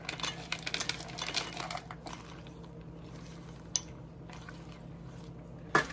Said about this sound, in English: add half the pecan, mini marshmallows, and chocolate chips and finish stirring